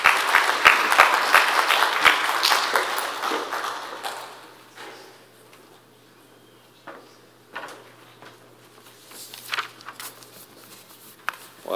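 Audience applause at a public works symposium welcoming a speaker, a loud burst of clapping for about four seconds that fades out, followed by scattered quieter clatter and thumps.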